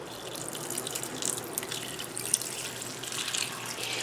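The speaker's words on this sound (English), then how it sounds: "Now, we are going to add some chicken stock." A steady, fairly quiet stream of chicken stock pours into a pot, giving a continuous splashing wash with a few faint drips and no talking.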